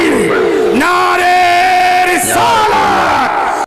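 A large crowd at a religious gathering roars a Takbir chant back in unison, a loud, sustained massed shout rising and holding, then breaking off abruptly at the end.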